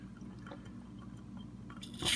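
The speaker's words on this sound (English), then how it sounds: "Take basically a plunger, make it into a big syringe, and that forces the coffee" A plunger-style coffee press forcing hot water through coffee grounds and a filter into a cup, giving soft close wet squishing and dripping that swell into a louder hiss near the end, with no voices.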